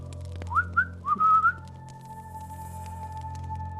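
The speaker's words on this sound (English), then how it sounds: "we hear this whistling. I whistle back." A short whistled call of three or four rising notes, clear and fairly close, followed by a quiet hum.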